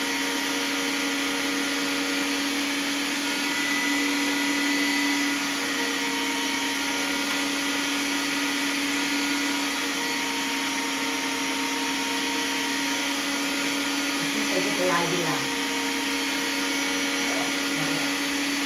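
Electric meat grinder finely grinding beef for hamburger, a steady loud motor whine and hum running continuously, with a brief clunk near the end.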